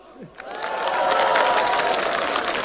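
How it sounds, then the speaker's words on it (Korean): Crowd applause and cheering at a Korean presidential campaign rally in Jeonju, swelling after a brief lull into sustained, dense clapping from a large outdoor gathering, with some shouts mixed in. "박수!"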